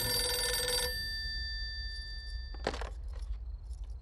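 A telephone rings with a bright electronic trill at the start, then stops, followed by a short clatter and faint background sounds, with no talking.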